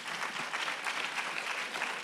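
Audience applause fills a room during a talk at a library, a dense, steady wash of clapping from many hands lasting throughout with no voices on top.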